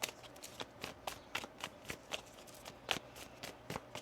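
Tarot cards are shuffled, a quick run of crisp riffling slaps and snaps at an uneven rhythm, close and fairly quiet, with no talk.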